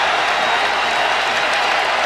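A roaring home crowd at a Pittsburgh college basketball game against Louisville cheers a defensive stand, a dense, loud, continuous wall of noise filling the arena.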